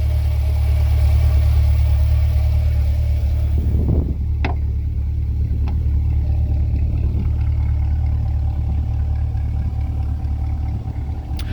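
Corvette LT2 6.2-liter direct-injection V8 idling, a steady deep rumble held close and loud throughout, with a couple of brief sharp clicks or taps partway through.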